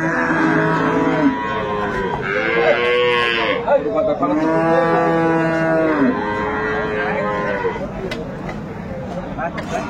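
Cows and calves at Aftabganj cattle market in Dinajpur give several long, loud, close moos one after another, over faint crowd chatter in the background.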